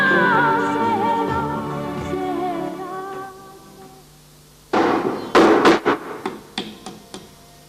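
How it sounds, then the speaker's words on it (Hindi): Nails being hammered: a burst of sharp, loud blows lands in quick succession, then several lighter, spaced taps follow, coming in after a sustained tonal passage fades out. "तुम कील ठोक रहे हो"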